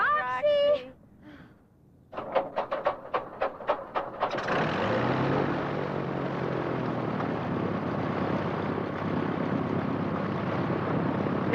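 A small propeller plane's engine cranks with a run of sputtering pulses, then catches into a loud, steady drone that holds before taxiing. A brief voice is heard at the start.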